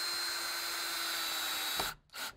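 A power drill whines steadily as it drives decking screws through a metal bracket into a wooden railing, close and loud, then stops with a short clunk and a brief final burst.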